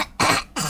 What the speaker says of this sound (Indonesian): Batuk dulu Bu MD, batuk dulu, itu kering banget tuh.